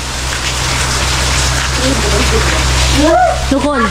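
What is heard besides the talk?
rain falling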